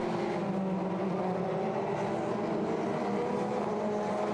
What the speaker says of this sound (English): So the safety car comes through again, for the sake of a few seconds, we have to go once more behind the safety car.